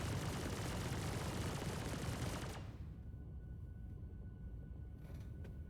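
Rapid cannon fire from a spaceship in a space video game, a dense loud barrage for about two and a half seconds that cuts off abruptly, leaving a low rumbling hum with faint tones.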